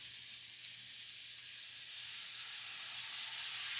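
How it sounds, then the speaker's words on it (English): Clam juice poured into quahog stuffing in a hot pan gives a steady, close hiss of sizzling that builds slightly toward the end, with no voices. "I'm gonna add about half of my clam juice."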